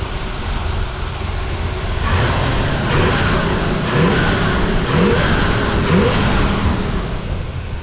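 A rebuilt 1967 Corvette L79 roadster engine revs loudly and steadily, with several rising pulls of the throttle over a constant rumbling idle.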